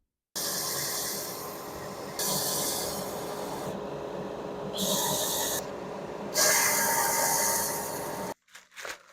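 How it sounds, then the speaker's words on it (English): Harsh, close rasping of sanding small scrap wood pieces, steady for stretches and stopping and starting in several bursts, ending with a few clicks and knocks. "just so I get the same sanding on all of them"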